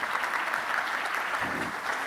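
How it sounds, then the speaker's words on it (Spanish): Conference audience applauding a speaker introduced on stage, a dense, steady wash of many hands clapping at even loudness throughout, filling the room without voices rising above it. "Por favor, démosle un fuerte aplauso a Julie"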